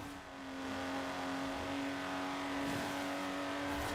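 A Lotus Exige's engine hums and whirs steadily as the car drives in Forza Horizon 4, a sustained buzzing drone at moderate, even loudness with no talk.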